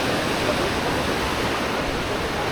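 A water outflow stream runs into the sea at a beach in Canasvieiras, giving a steady, broad rushing wash with no clear breaks. It sounds close and fairly loud, and no one talks.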